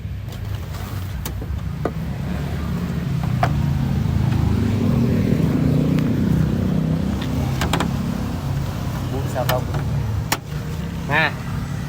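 Engine of a 2012 Ford Ranger XLT pickup idling steadily at close range, a low continuous rumble throughout, with a few brief clicks and mechanical ticks over it.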